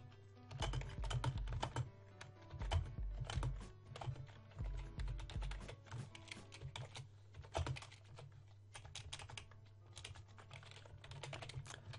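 Rapid typing on a computer keyboard sitting close to the microphone, irregular bursts of crisp key clicks and taps with brief pauses, no speech over it.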